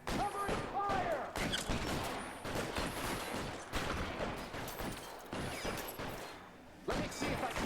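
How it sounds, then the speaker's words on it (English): Dense rapid gunfire during a shootout in the video game L.A. Noire, with overlapping shots and bursts rattling on almost continuously, loud and close, with only brief lulls. "Throw out the guns. Covering fire!"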